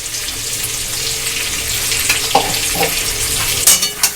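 Fish head frying in a wok, a loud continuous sizzle and crackle, with a few louder spits and pops toward the end.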